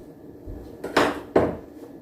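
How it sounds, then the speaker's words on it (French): A knife cuts an avocado for a poke bowl: two sharp, close knocks against a board about half a second apart, with quiet room tone before and after. "Je vais venir couper mon avocat."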